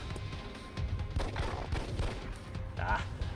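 A pistol shot rings out in XCOM: Enemy Within, set on a rooftop in the Long War mod: a muffled, booming report within a dense wash of game ambience and rumble.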